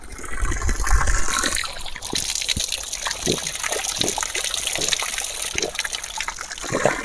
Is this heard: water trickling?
yes